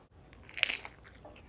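A single close, crisp crunching bite into batter-fried fantail shrimp, followed by a faint chew, with quiet surroundings and no talking.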